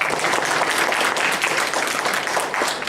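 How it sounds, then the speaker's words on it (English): Dense, sustained applause fills a theatre before an unscripted improv comedy show, a loud, even wash of many hands clapping together without a break. "Give them a round of applause."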